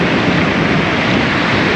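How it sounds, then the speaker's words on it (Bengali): Ocean surf breaking on Puri Golden Beach, a steady, loud wash of waves rolling in close by with wind buffeting the microphone, no voices. "এই ঢেউটা আসছে"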